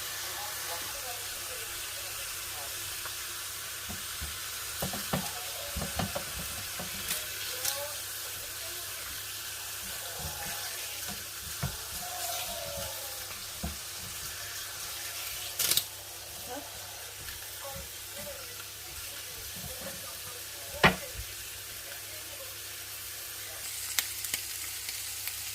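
Ham sizzles and fries in a pan in a home kitchen, with a steady soft crackle and occasional louder pops and utensil clinks, under some faint background noise.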